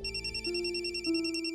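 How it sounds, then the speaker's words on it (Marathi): A telephone rings in a home setting, a rapid warbling electronic ringtone with a steady pulsing tone, moderately quiet and heard alone. "फोन वाजतोय ना, उचल."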